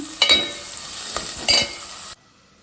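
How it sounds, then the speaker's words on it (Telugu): Chopped onions and green chillies hitting hot oil in a pan, a loud close hiss and crackle with a couple of stirring scrapes, which cuts off abruptly after about two seconds. "ఇక్కడ ప్యాన్ పెట్టుకుని ఆయిల్ అయితే వేసుకున్నాను ఆల్రెడీ. ఇప్పుడు వచ్చేసి దీంట్లో ఉల్లిపాయలు, పచ్చిమిరపకాయలు అయితే యాడ్ చేసేసుకుంటున్నాను."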